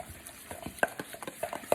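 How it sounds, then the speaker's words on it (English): A Worcestershire sauce mixture for a copycat Raising Cane's dipping sauce is stirred in a bowl, giving soft, irregular scraping and light clinking strokes close by, with no talking. "Okay, then mix all that together."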